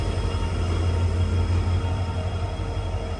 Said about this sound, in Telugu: మన జమ్మూ తావి ఎక్స్ప్రెస్ అయితే వచ్చేస్తుంది ప్లాట్ఫామ్ నెంబర్ 1 జోధ్పూర్ కి